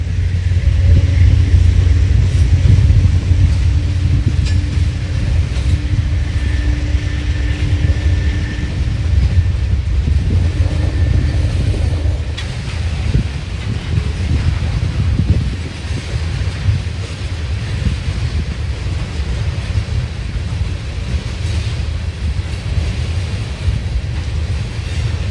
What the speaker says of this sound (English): Slowly making its way eastbound on the Chicago line was Norfolk Southern's 64K, an as-needed loaded ethanol train